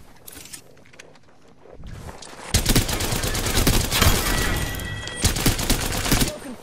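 Gunfire in Apex Legends, starting with scattered sharp shots, then swelling into dense rapid automatic bursts and overlapping volleys that stay loud and close for several seconds.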